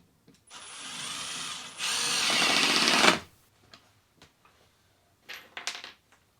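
A power drill running in two long bursts, near and loud, the second harder and higher-pitched, while hinges are fastened onto a fold-down bench vise; a few light knocks and brief clatters follow after it stops.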